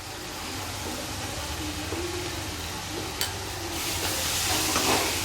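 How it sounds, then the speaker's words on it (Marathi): Spoonful of turmeric dropped into hot oil for a dal tadka, giving a steady close sizzle and crackle that grows brighter and louder toward the end, with a few faint stirring scrapes. "त्यानंतर आता आपण तेलात 1 चमचा हळद टाकूया"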